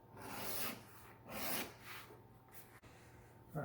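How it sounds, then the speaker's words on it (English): Leather edges of a Book of Mormon cover being beveled with a hand edge tool, heard as close, soft scraping strokes in a few uneven passes against a quiet background. "I'm going to bevel all my edges, back as well."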